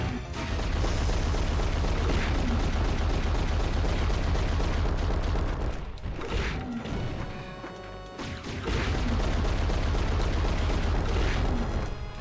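Repeated bomb blasts in the PlayStation action game Alundra, loud crashing bursts that pile over one another, break off briefly in the middle, then resume at full force.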